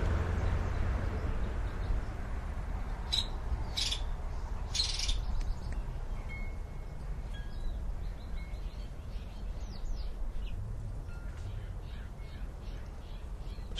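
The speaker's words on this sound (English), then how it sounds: "So now I'm taping here and the birds are starting to return for some reason." Wild birds chirp and call outdoors over a steady broadband hiss, with a few sharp loud calls early on and then scattered fainter chirps and tweets, no talking.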